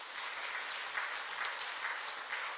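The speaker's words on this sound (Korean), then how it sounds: "우리 박수 한번 치십시다." A church congregation claps together at a Korean Sunday afternoon service, a soft, even patter of many hands that continues steadily and sounds somewhat distant.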